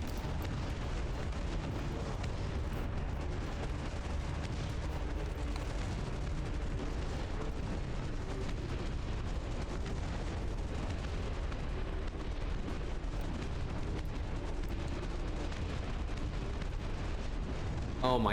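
Continuous dense rumble of artillery barrages pounding a mass of infantry in the RTS game Dust Front, with layered booms and blasts running steadily throughout at high intensity.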